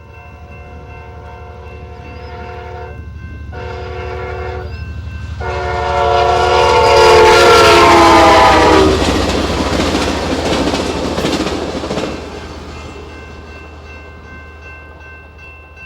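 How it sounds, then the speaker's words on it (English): An Amtrak passenger train at about 80 mph on Tehachapi Pass, California, sounds its horn in several blasts, then roars past, the rumble swelling loudly before fading away into the distance. "At 80 miles an hour, it does not take long for Amtrak to go by."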